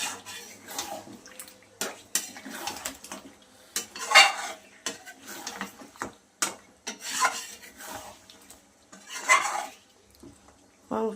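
Mutton being stirred and sautéed in a pan, with a utensil rubbing and scraping against the metal in irregular bursts, some strokes louder than others, no voices.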